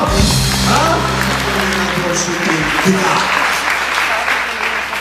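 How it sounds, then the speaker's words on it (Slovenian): Applause from an audience at a closing event fills the whole stretch, dense and steady, with a voice talking faintly underneath. "Dajmo še aplavz, prosim, lepo."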